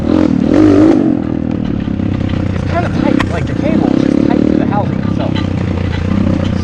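A Kayo T2 dirt bike engine revs and drones while being ridden, with rising and falling throttle pulls and some scraping clatter under a voice talking.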